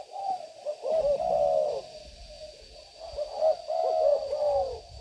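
Spotted dove cooing in a series of soft, rounded calls, repeating in two clear bursts with short pauses between, close and fairly quiet with a faint steady hum behind.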